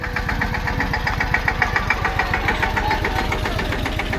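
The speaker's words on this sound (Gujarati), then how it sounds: "તો ટ્રેક્ટર આવી ગયું છે" A tractor engine idles steadily in a farm field, a close, rhythmic diesel chug with a regular knocking pulse that runs unbroken until it cuts off at the end.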